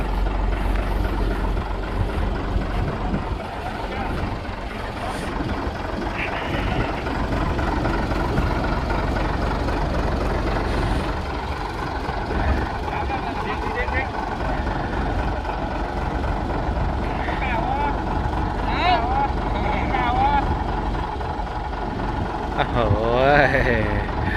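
A bus engine runs with a low, steady heavy rumble as the driver pulls away on a trip to the Pa Sak dam in Lopburi, with people talking over it throughout.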